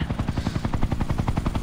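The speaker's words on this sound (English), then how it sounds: "You never seen a helicopter before?" A helicopter in the video game Future Soldier thuds with fast, steady rotor beats, loud and close, with no talk over it.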